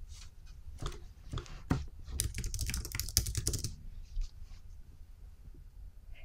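Close, quiet clicking of a computer keyboard as a note is typed, starting with a few scattered taps, then a brisk run of keystrokes, then tapering to sparse clicks.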